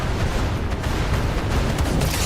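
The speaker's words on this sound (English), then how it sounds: "I can also drop my airstrike too" Airstrike explosions in a combat video game roll together into a dense, continuous low rumble of booms and blasts that stays loud throughout.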